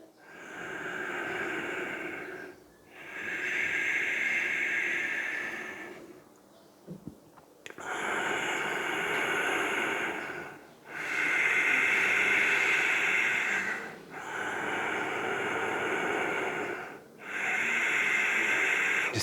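Heavy breathing after yoga sun salutations, long hissing breaths in and out repeating in a slow rhythm, with a short pause near the middle, close and loud and without speech.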